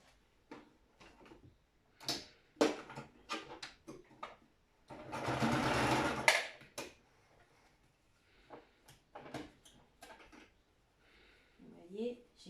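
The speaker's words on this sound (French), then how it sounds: "je vais venir mettre une couture là" A sewing machine stitches a seam on a child's fabric mask in one steady run of about a second and a half, framed by someone talking and small clicks of handling the fabric.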